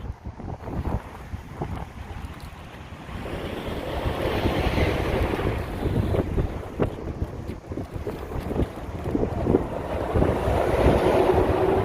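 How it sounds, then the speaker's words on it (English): Wind buffets the microphone with a steady low rumble that swells and gusts over several seconds, with faint water-like wash in the background, by the river at Sutton Bridge near the Cross Keys Swing Bridge. "Now I do apologise about the wind."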